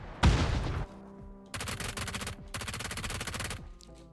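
PUBG gunfire: a loud burst of shots, then two long rapid automatic volleys with short pauses between, close and dense.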